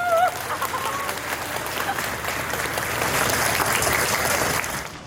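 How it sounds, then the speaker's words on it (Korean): An outdoor crowd on a street in Jeju applauds steadily at a political candidacy announcement, a dense wash of clapping that swells slightly and continues for about five seconds, with faint voices near the start. "큰 박수 부탁드립니다"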